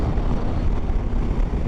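Strong wind buffets the microphone while a KTM 390 Adventure motorcycle is ridden, a steady loud low rumble of gusting air roaring continuously throughout with no let-up.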